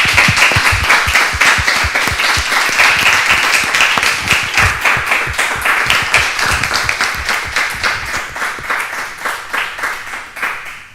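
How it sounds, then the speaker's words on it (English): Students at a Master in Data Design final presentations event receive a big round of applause: dense, sustained clapping from a room full of people, holding steady and then thinning toward the end. "So big applause for these amazing students."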